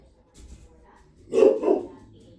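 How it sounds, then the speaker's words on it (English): Dogs barking in a home kitchen, a faint yip early on and then two louder, close barks in quick succession. "Of course, the dogs bark."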